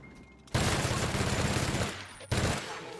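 Rapid automatic gunfire from a weapon in the video game The Outer Worlds, a loud sustained burst that cuts off briefly and then resumes.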